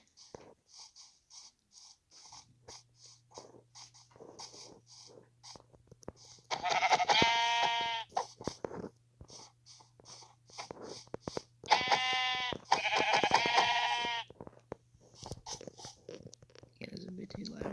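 Sheep in Minecraft let out several short, repeated bleats in clusters, fairly close, alongside quiet talk and game sounds.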